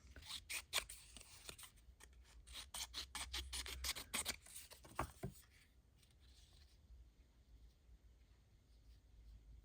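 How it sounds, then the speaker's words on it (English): Scissors snip a paper craft tag in a quick run of sharp cuts, close and crisp, then the clipping gives way to faint rustling handling of the paper. "I would have to cut this part off."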